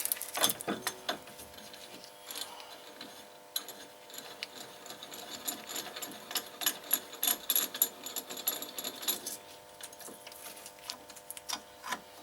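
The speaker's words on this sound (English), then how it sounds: "as you start tightening, piston should start winding in" A brake caliper piston on a 2001-2005 Toyota RAV4 being wound back with a tool, giving a quiet, irregular series of small mechanical clicks and ratcheting ticks close by, with no speech.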